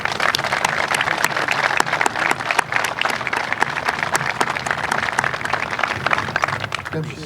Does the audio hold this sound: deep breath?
no